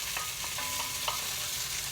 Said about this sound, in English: I'm also going to saute the onions and the tomatoes before I even add my beans to it